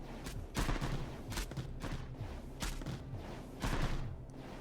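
Enemy units firing weapons in Mindustry, a rapid series of heavy booming shots in irregular bursts, loud and sharp, with no talking.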